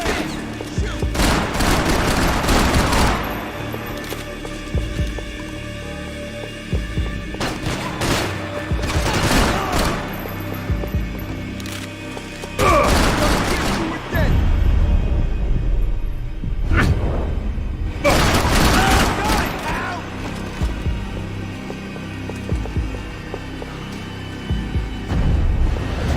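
Heavy gunfire in the action shooter Max Payne 3: bursts of loud, close shots and fusillades come in several clusters with whooshes and impacts between them, and no voices.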